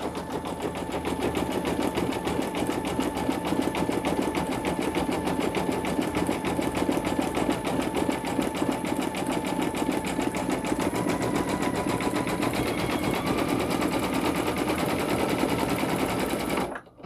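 An embroidery machine stitches a hooded towel with a steady, rapid mechanical chatter, close and loud, running continuously without pause before stopping abruptly at the end.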